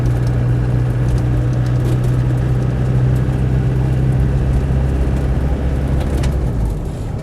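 A steady diesel engine drone with low rumble and road noise from inside a moving Land Rover Defender 110 with a 200Tdi engine, constant throughout with no talking.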